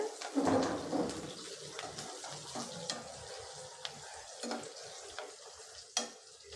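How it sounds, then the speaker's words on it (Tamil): Curry leaves, spices and onions sizzle in a pan while a utensil stirs in short scraping bursts, close and moderately loud, with no voices. "இப்போ இது எல்லாத்தையும் நல்லா வதக்கி விட்டுருங்க"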